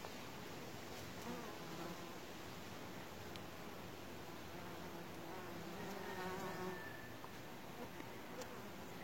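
Honeybees buzz around a hive entrance in a garden in August as foragers return carrying pollen on their legs, a steady dense hum of many wings with faint rustling and no talk.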